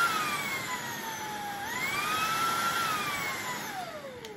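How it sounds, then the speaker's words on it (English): An Ultenic 30KPa stick vacuum runs steadily on its low suction setting, a constant close-up whine with shifting tonal pitch that rises slightly midway and then dips toward the end, with no talking. "This is your power button, so you have low suction, like this."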